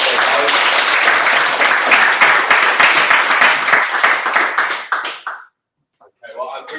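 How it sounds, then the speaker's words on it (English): An audience at a Django user group meetup in London breaks into sustained, loud applause with dense clapping that fades out after about five seconds, followed by a brief silence and then renewed scattered clapping. "A round of applause, guys."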